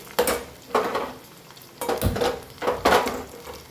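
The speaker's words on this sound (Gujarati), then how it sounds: "કાપેલું બટાકું અને લીમડો એડ કરીશું સરસ મિક્સ કરી લઈએ" Cut potatoes and curry leaves are stirred in a pan with a utensil, giving about five distinct scraping, sizzling strokes at an uneven rhythm, close and fairly loud.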